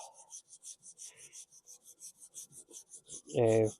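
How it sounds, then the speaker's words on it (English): Wet and dry sandpaper rubbed over metal to polish it back to bare surface: quiet, rhythmic back-and-forth rasping strokes, about two per second, ending in a brief louder burst. "Then I've got the wet and dry sandpaper"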